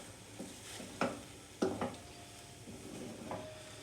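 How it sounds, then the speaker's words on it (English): Eggs with ham and cheese being scrambled in a frying pan, with a few scraping stir strokes of a utensil over a low, steady sizzle, close and fairly quiet. "I'm just gonna scramble it around."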